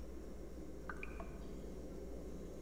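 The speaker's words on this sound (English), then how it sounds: "Sounds like water." Water drips in a dark, quiet area of the puzzle-platformer game Limbo, where a few sparse, high, wet drops land over a steady low hum.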